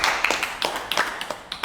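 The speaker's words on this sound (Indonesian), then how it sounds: "Tepuk tangan dulu buat Mas Bob." A handful of scattered hand claps from a small group during an Indonesian podcast episode, sharp and close, coming in uneven bursts over a brief moment.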